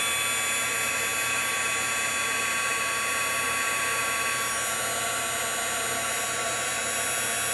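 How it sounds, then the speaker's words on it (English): A heat gun blows on a craft project, a steady, even whirring hiss close by that runs unbroken throughout. "If I wanted to, I could zap it with my heat gun"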